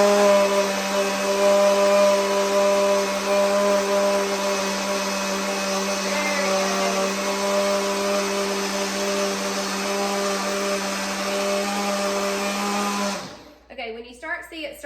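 A Ninja blender motor whirs steadily at a high, even pitch for about thirteen seconds, loud and close, then cuts off abruptly, leaving brief kitchen clatter at the end.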